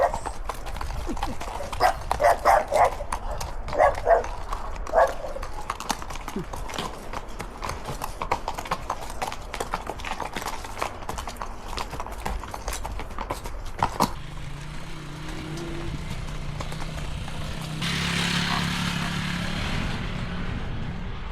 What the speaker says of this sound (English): out on a horse, going through agave fields near Tequila, Mexico.